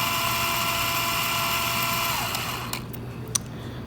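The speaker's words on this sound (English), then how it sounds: "Sorry about the drill, it's not the most optimal way to spin this" A power drill spins the trip meter from a 1967-72 Chevrolet C10, a steady high whine running loud and continuous before winding down and cutting off, followed by a few faint clicks.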